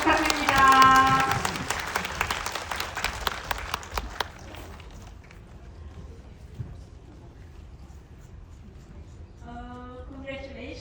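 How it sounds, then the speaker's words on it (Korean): A cinema audience claps loudly during a film stage greeting, with a voice speaking over the applause at the start. The clapping fades away after about four seconds, leaving quiet room noise and then more talk near the end. "박수 부탁드립니다"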